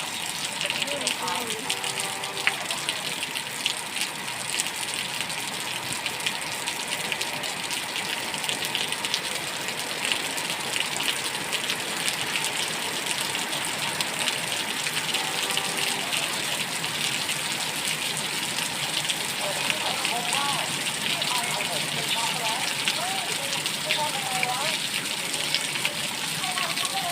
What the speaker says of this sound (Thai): ฝนตกทั้งวันทั้งคืนเลยพี่น้องเอ้ย